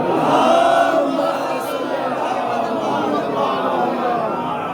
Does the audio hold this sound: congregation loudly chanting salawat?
yes